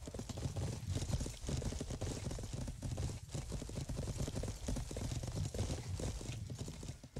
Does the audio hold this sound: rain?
no